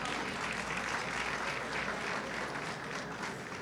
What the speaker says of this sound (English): let us give a round of applause to Peter.